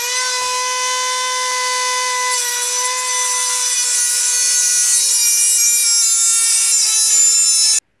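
A Dremel rotary tool grinding screws makes a loud, close, high-pitched whine, grinding steadily for about eight seconds, its pitch barely wavering, then stops abruptly.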